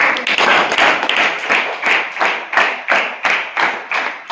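An audience at a school-level general knowledge quiz claps in a steady rhythmic beat, about two claps per second, loud and close, continuing throughout without talk.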